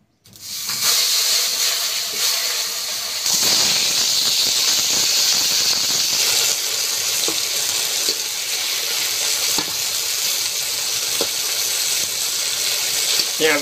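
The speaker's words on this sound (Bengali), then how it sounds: "এবার এই যে বেগুনগুলো ভাজবো" Aubergine slices hitting hot oil with a little onion and dried chilli, a loud continuous hissing sizzle that swells after a few seconds and holds steady, with faint talk underneath.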